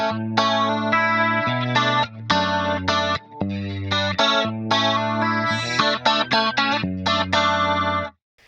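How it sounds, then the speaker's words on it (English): Clean 1980s-style electric guitar through a stereo tri-chorus effect at stock settings, played as chiming chords and arpeggios with a shimmering, wobbly modulation, loud and continuous for about eight seconds. "I'm going to start with a stereo tri-chorus"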